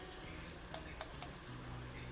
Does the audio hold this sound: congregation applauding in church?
no